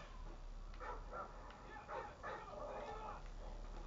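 A small dog yips and whimpers in a few quick bursts in a video game over a constant low hum, with a voice speaking alongside.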